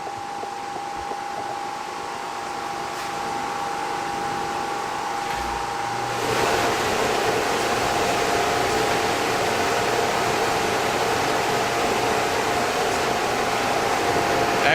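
A room ventilation fan blows air in a steady, loud whoosh with a faint hum, growing noticeably louder partway through and continuing unbroken without talk, in a space used for casting lead in a wire mold.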